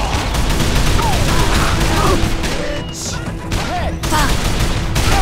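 Gunfire from the video game Call of Juarez: The Cartel, a dense, loud stream of shots and crashing impacts under shouted voices. A brief lull comes midway before the shooting picks up again.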